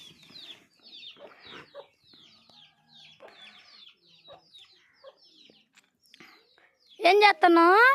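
Chickens kept at home, with a loud, wavering squawk bursting out near the end after a stretch of people talking over faint background bird sounds.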